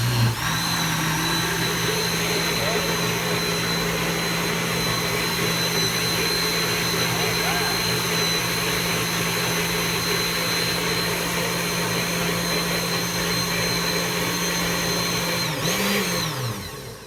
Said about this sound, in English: Now, we blend again.